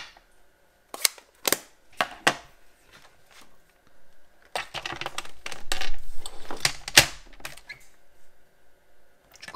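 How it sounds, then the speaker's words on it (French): A paper trimmer (massicot) handled close up: a few sharp clicks and taps, then a longer scraping, rattling pass as the blade slides along the paper, ending in a firm snap. "Et là, je prends mon massicot."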